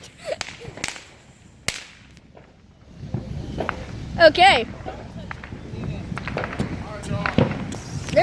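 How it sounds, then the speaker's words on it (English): Fireworks go off outdoors during a Fourth of July celebration, sharp cracks and pops scattered at varying distances with occasional whistling streaks, while a person talks and exclaims throughout. "There is a whole bunch of other fireworks going on."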